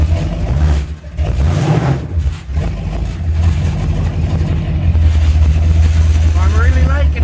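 A 1928 Dodge rat rod's engine runs loud and close on a test drive, droning and surging as it bogs at the bottom end, with a voice talking over it.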